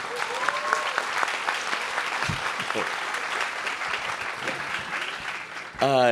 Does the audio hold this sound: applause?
yes